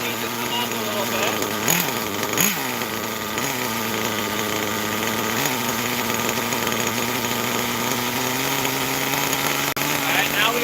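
A small engine with a three-needle carburetor idles steadily and loudly up close, with a couple of brief throttle blips near the start before settling into an even hum.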